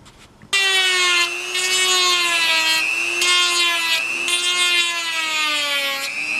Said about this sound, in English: The sanding drum, that's going to allow me to just get in there